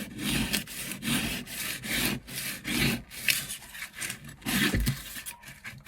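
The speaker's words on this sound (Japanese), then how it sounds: "とにかく引っ掛けるつもりで研ぐと早いです。" A rusty kitchen knife is sharpened by hand on a whetstone with repeated rhythmic back-and-forth strokes, each a close, gritty scraping rasp with brief pauses between, steady and alone without talking.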